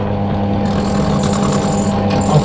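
A power drill runs slowly and steadily into a motorcycle mirror, a continuous close grinding whir with a few small rises in pitch and no talk.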